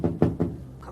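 Someone bangs on a door with three or four quick, heavy thuds in a steady rhythm, close and loud, ringing briefly after each blow.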